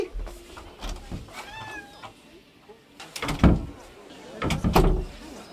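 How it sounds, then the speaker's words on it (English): A pet cat gives a brief meow at home, and then a door opens with a couple of louder knocks and rattles, all against a low background murmur. "Okay, gotta let the cat out."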